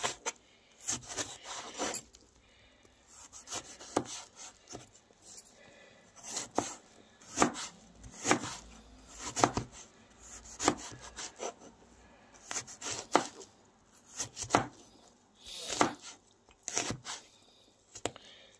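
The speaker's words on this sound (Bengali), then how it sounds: "আজকে আমি লাউটা অন্যভাবে রান্না করব, এই জন্য এইভাবে পিস করে নিচ্ছি" A knife cuts bottle gourd into pieces on a board in a steady series of rasping, chopping strokes. The blade is dull, and each stroke is fairly close and distinct, with short pauses between cuts.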